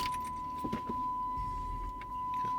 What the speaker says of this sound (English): Start up the car.